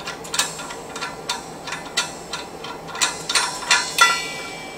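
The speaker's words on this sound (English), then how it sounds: "Next thing I'm going to do is remove the knurled nut from the cylinder." Knurled nut being removed from a gas cylinder on a medical gas delivery setup: a quick series of light metallic clicks and taps at an uneven rhythm, close and clear, with no talking.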